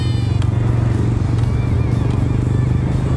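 A Yamaha YT 115 trail motorcycle idles close by with a steady low putter and faint rattling, running continuously.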